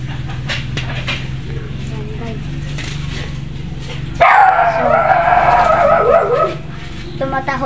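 A pet dog indoors barks and whines at another dog outside, with short yips heard under ongoing household sounds and a person talking.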